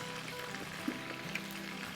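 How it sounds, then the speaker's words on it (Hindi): Sesame seed oil, about a teaspoon, goes into a hot pan that already holds vinegar, giving a steady close sizzle with a couple of brief pops and no talking. "इसमें हम डालेंगे 1 टीस्पून के आसपास सेसमी सीड ऑयल"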